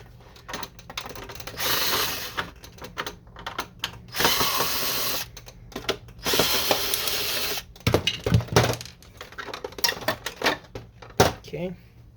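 Screws are taken out of the side panel of an Epson WorkForce WF-2630 printer, with a series of sharp clicks, scrapes and short rattling bursts of plastic and metal close by, at an uneven pace.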